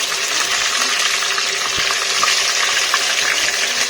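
Curry leaves hit hot oil in a pan already frying coconut pieces for Kerala-style beef chops, giving a steady, close, loud sizzle with crackling pops throughout and no talk.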